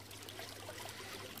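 Water trickling and flowing steadily in a forest stream, a soft continuous babble at low level with no voices.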